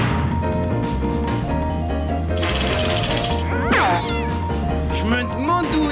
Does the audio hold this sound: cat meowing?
yes